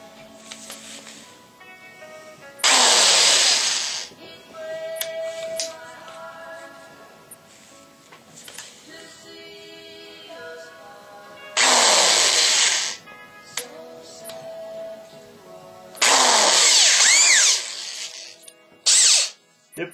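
A power drill spinning a 564 bit whirs in several bursts of a second or two each, separated by quiet stretches with faint clinks and handling.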